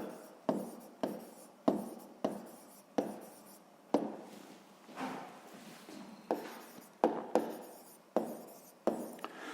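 Pen strokes scratch close up on paper as math notes are written by hand, a quiet, steady run of short scribbling bursts separated by brief pauses.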